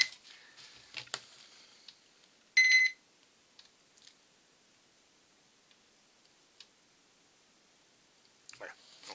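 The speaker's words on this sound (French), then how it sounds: "les deux premiers bips émis par le moteur confirment le fait que le contrôleur est prêt à fonctionner avec une batterie LiPo 2 éléments" Electronic beeps from a model aircraft motor as its speed controller arms on a 2-cell LiPo battery, a short dense burst standing out from a quiet room with faint handling clicks.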